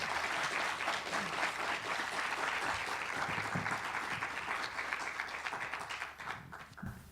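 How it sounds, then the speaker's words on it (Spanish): Sustained audience applause at a university lecture hall in Lanús, welcoming a professor to give a conference, steady dense clapping for about seven seconds that tapers slightly near the end, with no talk over it. "Un aplauso para él, por favor."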